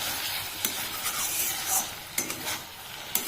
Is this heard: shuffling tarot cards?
no